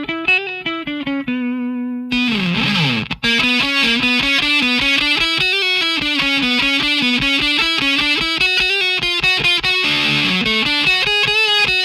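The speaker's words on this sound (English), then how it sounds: "So if I quickly show you what the Tele Deluxe sounds like clean straight into the amp" A Fender Telecaster Deluxe electric guitar, played straight into the amp, rings out a continuous melodic riff, loud and sustained with bright harmonic notes, briefly interrupted by a scraping slide before the line continues.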